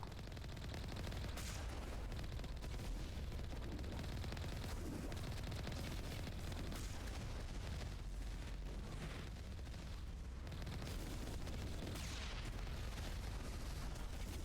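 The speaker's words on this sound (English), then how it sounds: "there they go shooting at me. Why don't you keep your missiles to yourself?" Gunfire and missile launches rage in the Mass Effect Legendary Edition video game, a dense, continuous barrage of shots and blasts that stays loud and unbroken, with no talking.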